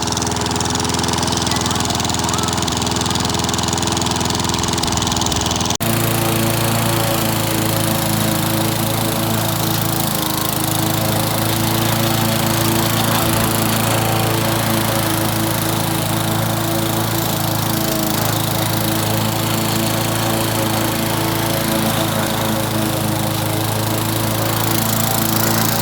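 Old Victa lawn mower with a Tecumseh TVS90 engine running steadily and loudly close by, a continuous rough single-cylinder drone with no talking.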